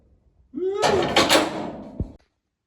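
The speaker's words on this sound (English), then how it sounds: "somebody just opened the door." A door opens in a workshop during a 1966 VW Beetle convertible restoration, giving a short creak followed by a rattling, thudding sweep and a final knock, close and fairly loud against a quiet room.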